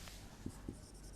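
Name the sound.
writing a term during a science lesson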